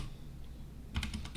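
Computer keyboard keys tapped while working in SketchUp: a quick burst of several close, crisp clicks near the end of a quiet stretch, with no talk.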